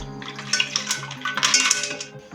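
Ice cubes being dropped into a vessel of milk while making a chilled sharbat, giving a string of close, bright clinks and knocks with faint liquid splashing and no talking.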